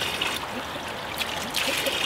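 Steady spring water trickling over rocks in Johnston Canyon, running continuously with a soft, bright splashing hiss, close by and fairly even, no voices.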